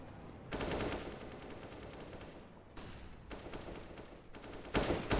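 Gunfire in Counter-Strike on the Overpass map during a professional StarSeries match: several loud, rapid automatic bursts separated by short gaps, with a final sharp burst at the end.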